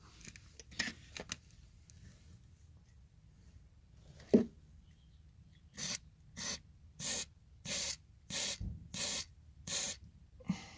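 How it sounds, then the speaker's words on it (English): WD-40 penetrating oil sprays onto a rear top mount bolt on a 2007 Mazda 3 MPS in short hissing bursts, about eight in a regular run after a few faint rustles. "Right, WD-40 time."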